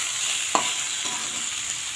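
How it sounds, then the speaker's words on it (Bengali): Rice and lentils fry in a pan with salt and turmeric under a steady, close sizzle, with a single spoon scrape as they are stirred. "একসঙ্গে সুন্দর করে নেড়ে নেব।"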